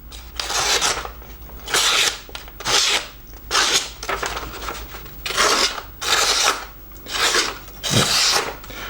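A serrated Byrd Cara Cara 2 knife saws through material in fine slices, giving repeated rasping strokes in an even back-and-forth rhythm, close and fairly loud with no talk.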